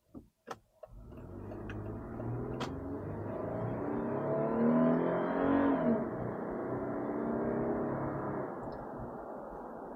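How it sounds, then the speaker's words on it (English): A 4-litre 2014 Toyota FJ Cruiser pulls away hard, its engine note rising and holding strong for several seconds after a couple of brief clicks at the start, loud and steady with no talking. "So what's the acceleration like of the FJ Cruiser?"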